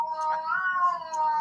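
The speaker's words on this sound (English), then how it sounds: "There's a cat out there." An angry cat outside yowls in one drawn-out, wavering meow lasting over a second, fairly loud and clear, with no voices.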